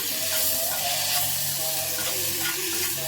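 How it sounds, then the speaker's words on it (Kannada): Tomatoes frying in a pan with the oil sizzling steadily, with stirring scrapes over a continuous close hiss. "ಟೊಮ್ಯಾಟೊನ ಆ್ಯಡ್ ಮಾಡ್ಕೊತಾ ಇದ್ದೀನಿ. ಇದು ಕೂಡ ಅಷ್ಟೇ ಚೆನ್ನಾಗಿ ಫ್ರೈ ಆಗಬೇಕು"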